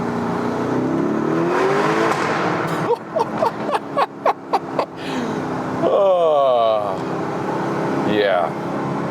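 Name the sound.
Lamborghini Urus engine revving while shifting down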